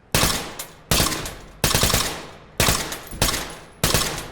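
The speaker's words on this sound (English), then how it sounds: "And we can switch the thing to full auto. So we can do little bursts." Full-auto gunfire from a rifle in the tactical shooter game Ready or Not, fired in six short, loud, close bursts, each a rapid string of shots followed by a brief pause and a fading tail.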